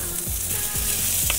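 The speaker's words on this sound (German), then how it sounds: "das Gulasch braten wir jetzt portionsweise im Dutch-Ofen an" Chunks of beef for goulash sear in hot rapeseed oil in a Dutch oven, giving a close, steady sizzle broken by a few soft stirring scrapes, with no talking.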